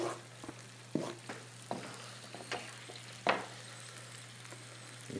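Onion, green pepper and corn frying in a pan for a meat and potato dinner, a steady low sizzle with several sharp clatters of stirring spaced through it, no voices.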